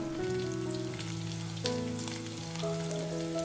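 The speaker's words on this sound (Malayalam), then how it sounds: "ഇനി ഇതിലേക്ക് ഒരു തണ്ട് കറിവേപ്പിലയും രണ്ട് പച്ചമുളക് നീളത്തിൽ കീറിയതും കൂടി ചേർത്ത് കൊടുക്കാം ഇവ ചേർത്ത് വീണ്ടും നല്ലപോലെ വഴറ്റി കൊടുക്കാം" Ginger, garlic, curry leaves and slit green chilies sizzle softly in oil for papaya pickle, a faint steady frying hiss under sustained tonal hum that shifts pitch partway through.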